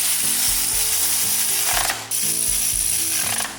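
A ratchet wrench torques bolts during the transmission reinstall on a 1965 Ford Mustang. It clicks rapidly and steadily, loud and close, with a short pause midway and no talk.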